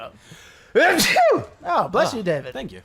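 A single loud sneeze bursts out close up from a man while retro SNES gameplay continues, followed by someone talking.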